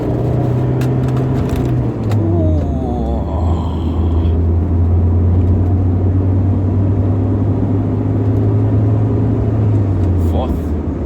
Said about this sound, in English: Second gear acceleration.